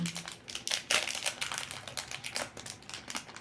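Plastic parcel packaging around a pair of earrings crinkles and crackles in close, irregular bursts while being unwrapped by hand, with no voices over it.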